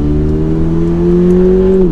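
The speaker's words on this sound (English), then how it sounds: "So that's about 3/4 throttle getting up to speed in the 86." A Toyota GR86 sports car pulls hard at three-quarter throttle, its engine note droning loud and close with a steadily rising pitch before easing off at the end.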